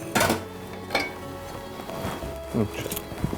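A fork scrapes and clinks against a bowl while boiled eggs are mixed, giving a few sharp taps over a steady kitchen hum, close up, with a faint voice now and then.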